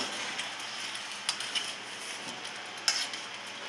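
Food being stirred in a cooking pot, a soft steady scraping and swishing with a few sharper clinks of a utensil against the pot, close and fairly quiet.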